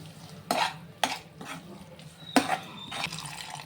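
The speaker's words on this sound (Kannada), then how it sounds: "ಇದನ್ನು ನಾನೀಗ ಚೆನ್ನಾಗಿ ಮಿಕ್ಸ್ ಮಾಡ್ಕೊಳ್ತಾ ಇದ್ದೀನಿ" Garam masala is stirred into greens khichdi in a pan, with a few distinct scraping strokes of the spoon over a faint sizzle, spaced roughly half a second apart and heard close up.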